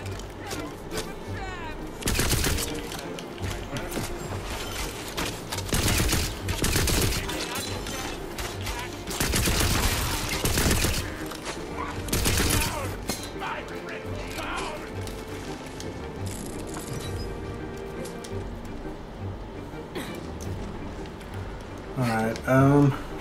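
Video game gunfire from Tiny Tina's Wonderlands: dense bursts of shots during a boss fight. They crack out repeatedly in loud clusters over game music and effects, while a player talks throughout.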